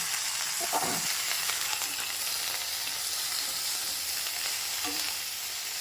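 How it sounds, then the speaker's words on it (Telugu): Mint leaves and green chillies fry in a pan for a fresh coconut mint chutney, making a constant near sizzle with a few stirring scrapes and no voices. "కొంచెం ఫ్రై అవ్వాలండి పుదీనా ఆకు కొద్దిగా మెత్తబడితే చాలు"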